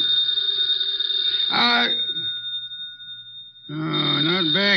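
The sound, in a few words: telephone bell ringing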